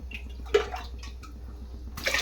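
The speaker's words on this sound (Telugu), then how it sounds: "ఇప్పుడైతే వాటర్ ఒక ఒక గ్లాస్ వేసేసాను" Water poured from a glass into a pressure cooker while making pongal, heard as a couple of short splashing gushes against a steady low hum.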